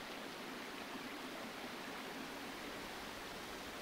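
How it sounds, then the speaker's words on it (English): A mountain stream in the San Gabriel Mountains flows steadily as a continuous, even rush of water at moderate volume, with no voices or other sounds. "springs and streams like this one flow into one of the forks of the San Gabriel River"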